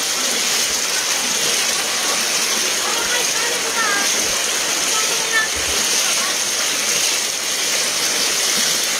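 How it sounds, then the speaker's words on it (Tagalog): Strong river water rushes continuously past, carrying floating garbage along toward Balintawak, a loud, steady, full-bodied roar of churning current with no breaks. "Ang lakas ng alon."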